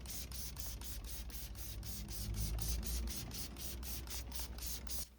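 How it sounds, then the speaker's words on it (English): Rapid trigger spray bottle misting diluted Carbon Collective all-purpose cleaner onto car door shuts, a steady run of about sixteen close, evenly spaced hissing squirts with no talking. "here I'm using the Carbon Collective all-purpose cleaner at a 1:9 dilution in one of their spray"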